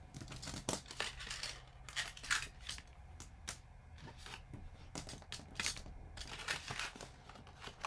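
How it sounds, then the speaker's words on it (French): Scissors snip out the centre of a paper cutout for a traditional Christmas scrapbook photo album, giving a run of short, crisp cuts and rustles close by, with no voices. "on va découper le centre ici de notre découpe"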